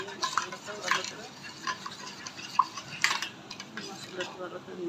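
Spice masala of chili, coriander powder and cumin paste stirred in a pan for a dried chepa shutki fry with potato and onion: soft scraping strokes with a few light spoon-on-pan clinks, fairly quiet and close, no talk.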